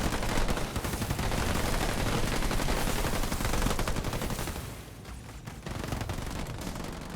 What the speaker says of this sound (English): More snipers at work.